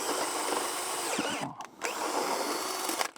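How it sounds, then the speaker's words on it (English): A power drill bores a 3/4-inch hole through a thick wooden wall header, a steady grinding whine that briefly drops out and then resumes. "decided to drill a 3/4 inch hole, which should be plenty big for 3 cables"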